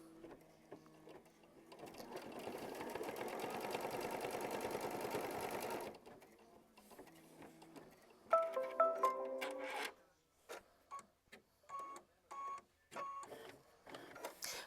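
Sewing machine stitching a quilt block, a sustained fast mechanical whirr running for several seconds, followed by shorter stop-start bursts of stitching with clicks and handling sounds between them.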